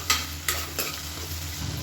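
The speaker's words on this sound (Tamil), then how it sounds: "வெங்காயம் நல்லா வதங்கட்டும்" Onions sautéing in oil for a vegetable biryani, a close crackling sizzle broken by a few quick scraping stirs of a spoon in the pan.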